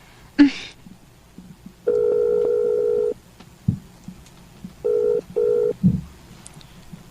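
Telephone keypad tones dial a call to the Philippines, two long steady beeps and two shorter paired beeps between brief knocks and handling noises, loud and close.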